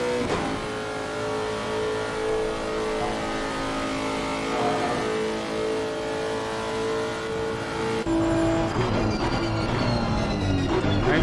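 Racing car engine heard from the onboard view in a PC racing game during an endurance race at Spa, a loud, sustained, aggressive tonal roar with shifting pitch, then a sudden jump in intensity and a rising rev near the end.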